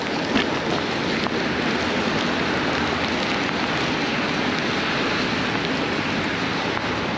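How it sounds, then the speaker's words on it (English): Hail pelting down during a bike ride on a Brompton folding bicycle through Toronto streets, a dense, loud, continuous hiss and patter of ice striking surfaces that never lets up. "I'd rather focus on riding through this hail than checking the screen."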